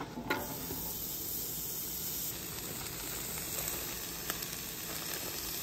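About two tablespoons of butter sizzling on a hot Blackstone griddle for a brown sugar and peach dessert sauce, a steady close hiss with a few faint pops and no talk.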